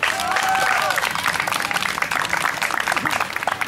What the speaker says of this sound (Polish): zachęcam do większych brawa